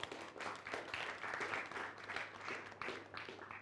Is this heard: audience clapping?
yes